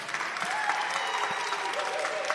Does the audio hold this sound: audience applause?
yes